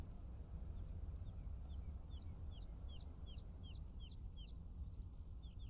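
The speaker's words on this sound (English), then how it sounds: "The birds chirping." Repeated bright chirps from birds in the survival video game Conan Exiles, a steady series of short calls over a low, constant outdoor wind-like ambience with no talking.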